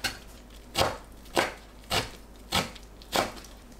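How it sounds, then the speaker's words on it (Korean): A knife chops kimchi on a cutting board in five evenly spaced, crisp strokes, close and clear against a quiet background. "김치를 작게 썰어주세요"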